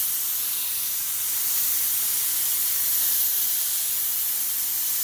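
Spray paint hissing steadily onto a machined Fox Body Mustang engine block, a continuous close airy spray that swells slightly midway with no talk.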